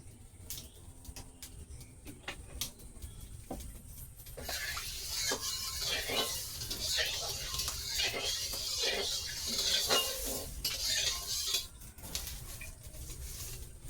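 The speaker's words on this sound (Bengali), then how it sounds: "প্রথমে আমি কড়াই তো আমি গরম করেই নিয়েছি তো প্রথমে আলুগুলো ভাজা করে নেব" Potatoes dropped into hot oil in a preheated wok, a few clicks and taps at first, then a steady loud sizzle and crackle of frying with occasional stirring.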